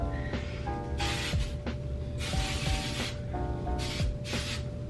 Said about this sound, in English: I'm gonna spray kind of like in between the layers